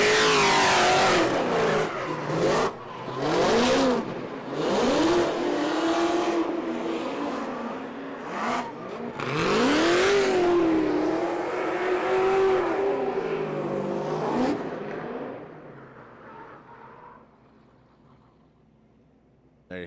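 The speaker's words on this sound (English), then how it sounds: "Just let you guys listen in to all the V8 noises." V8 drift car on a bye run at a Lake Erie Speedway pro-am drift competition, its engine revving hard in repeated rising and falling bursts, loud then receding and fading out toward the end.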